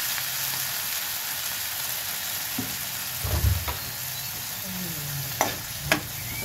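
Steady sizzling of chayote sautéing in a pan, with a few clinks and scrapes of a utensil stirring, close and continuous.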